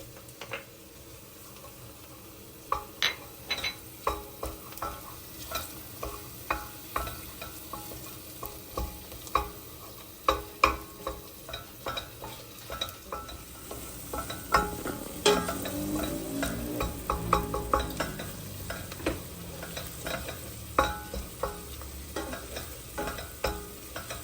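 Tomato paste and onions fry in a pan, stirred with frequent sharp utensil scrapes and taps over a continuous sizzle that thickens and grows louder toward the end.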